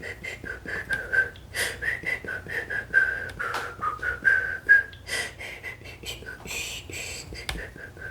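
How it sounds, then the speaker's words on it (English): A soft, breathy whisper whistle carries a simple song melody in close, intimate tones, with short pauses and gentle breaths between the notes. "I wonder how much my pitch in my little whisper whistle, how much that goes through."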